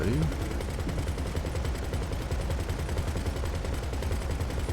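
Rapid, continuous automatic gunfire in GTA 5 Online rattles steadily throughout, dense and loud with game-like mechanical rumble beneath.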